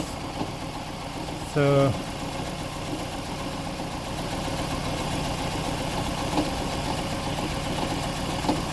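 A Toyota Estima Hybrid with a 2AZ-FXE engine idling with a severe shake and multi-cylinder misfire, a low uneven rumbling hum with a brief tonal chime near the start, and a single short spoken word early on.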